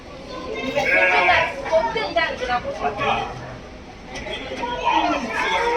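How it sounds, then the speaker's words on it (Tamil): Sheep bleat repeatedly in wavering cries on a goat farm slope, close by and fairly loud, with people chattering among them. "செம்மறி ஆடுகள்"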